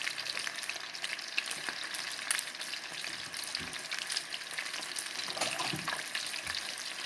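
Shrimp deep-frying in hot oil, a steady, crackling, dense bubbling sizzle that holds throughout with a few louder pops, no voices.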